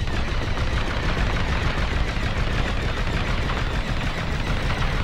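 Starfighter cannons fire in Star Wars Squadrons with weapons at full power, a dense, loud, unbroken stream of rapid blasts.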